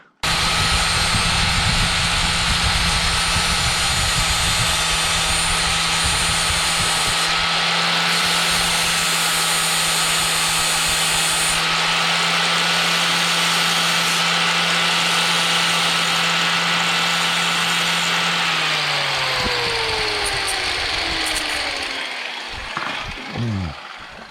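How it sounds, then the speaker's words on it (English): A bench grinder wheel runs loud and steady, grinding a tungsten welding electrode with a continuous high whine that winds down near the end. "And that's all I do to grind my tungsten."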